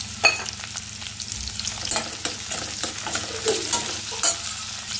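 Green chillies and curry leaves fry in hot oil for a mushroom curry, giving a quiet, steady sizzle with intermittent scraping stirs and clinks close by.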